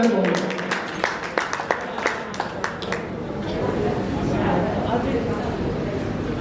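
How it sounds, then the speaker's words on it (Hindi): A crowd claps at a Giants Group of Jodhpur 47th oath-taking ceremony: scattered sharp claps at first, then a steadier wash of applause mixed with a voice over a speaker system. "वो उनके लिए सभी तालियां बजाएंगे"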